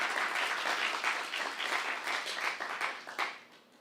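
Sustained applause from a church congregation at a Saturday worship service, dense and even for several seconds before tapering off near the end.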